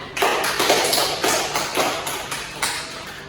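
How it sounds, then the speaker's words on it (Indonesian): Students in a classroom give a short round of rhythmic clapping, with regular hand claps repeating at a steady pace for a few seconds at moderate loudness. "kita beri aplaus untuk Ida."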